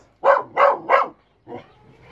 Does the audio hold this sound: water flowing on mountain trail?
no